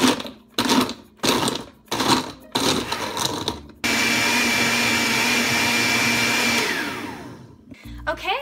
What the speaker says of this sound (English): I like to blend it up a little bit with the slower one first